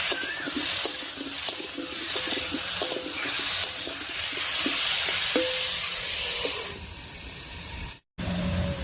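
Bottle gourd sprinkled with salt and stirred in a pan for lau shukto: a hissing sizzle with repeated spoon scrapes and taps that fades softer near the end, then briefly cuts out.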